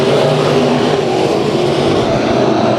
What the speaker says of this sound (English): It's a race out here for the Sport Mods.